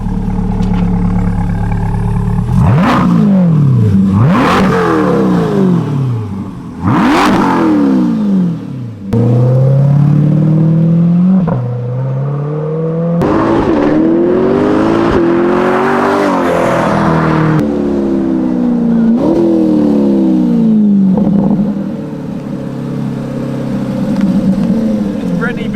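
A loud, raspy straight-piped Corvette C8 engine revs hard again and again up close, heard from outside, with brief pops between pulls and voices talking underneath.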